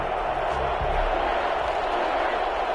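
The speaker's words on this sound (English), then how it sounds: "This crowd is ready" Dense crowd roar filling an NFL stadium before the Kansas City Chiefs and New Orleans Saints kickoff, steady and broad with a commentator's voice over it.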